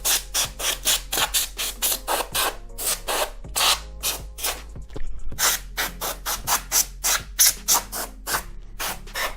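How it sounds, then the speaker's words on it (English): Compressed air from a can duster blasts into the innards of a 22-year-old Sony STR-DB1080 receiver in many quick, loud, hissing bursts, rapid puffs in uneven clusters with short gaps between them. "Nothing came off when I blew it with the air duster."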